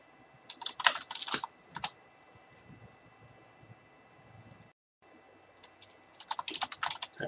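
Someone types a command on a computer keyboard while setting up a Kali install on ESXi. Quick clusters of close, crisp key clicks come in bursts, then a short pause and a final burst, with a faint hiss underneath.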